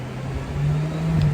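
A Kawasaki ZX800 motorcycle engine revs during a test, a steady close hum that swells slightly partway through the brief burst.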